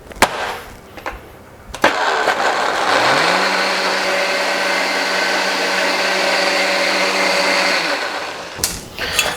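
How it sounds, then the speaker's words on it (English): A blender purees onions with a loud, steady whir that runs for several seconds after a few clunks as the lid goes on, then stops, leaving brief knocks. "And then lid on and blend"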